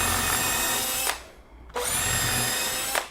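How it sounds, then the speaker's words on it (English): A power drill pre-drills timber support blocks for a KwikStairs left-hand winder box, giving two loud, close whirring bursts split by a short pause. "you need to pre-drill them"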